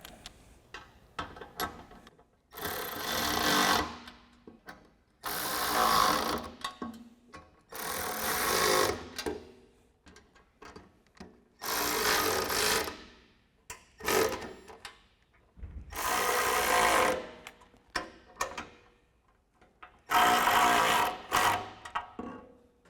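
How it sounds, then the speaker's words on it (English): A bolt on a steel front bumper for a Ford Bronco is tightened with an Allen wrench and a 13 mm socket on the nut, giving rapid ratcheting bursts of about a second each in a repeated rhythm with short pauses between, close and fairly loud. "I'm going to grab the included Allen wrench for the top of our bolt and a 13 millimeter socket for our nut."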